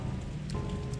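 Rain in the video game Pathologic 2 falls in a steady, moderately loud wash of drops on surfaces, with a low rumbling bed beneath and no voices.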